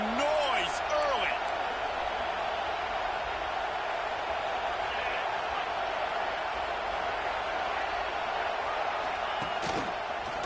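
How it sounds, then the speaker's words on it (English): Large college football stadium crowd at a Notre Dame game, a dense continuous roar of many voices under announcer commentary, with brief whistles and cheers rising near the start and end. "This crowd bringing the energy and noise early."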